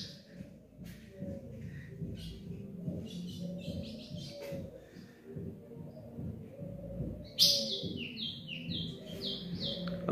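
An azulão, the ultramarine grosbeak, sings in a series of faint, thin chirps and whistled notes that get louder near the end, over a quiet, low indoor background.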